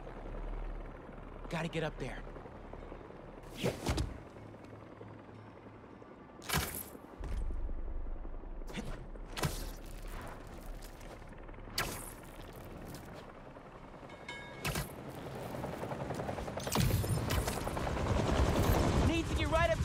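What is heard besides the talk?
helicopter blades in the video game Marvel's Spider-Man 2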